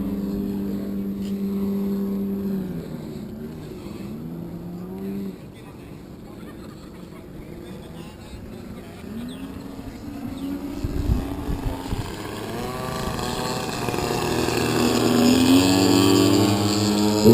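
A heavily modified Extra 300 aerobatic plane at an air show flies past, its engine drone building from a distant hum to a louder, closer roar with rising pitch, over steady crowd and wind noise.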